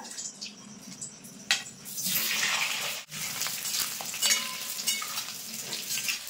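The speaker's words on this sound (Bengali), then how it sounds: "এই তেলের ভিতর কিন্তু খুব ভালো করে আলুগুলো ভেজে নেবো" Parboiled potatoes fry in hot oil for Kashmiri aloo dum, giving a dense, steady sizzle close by. The hiss swells and shifts as the pieces are stirred, with one brief dip in the middle and no voices.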